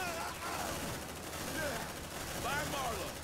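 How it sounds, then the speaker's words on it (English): Rapid gunfire from colonial marines laying down suppressive fire in the Aliens: Dark Descent video game, a dense sustained barrage with whistling bursts layered over game sound effects, steady and loud throughout. "Suppressive fire!"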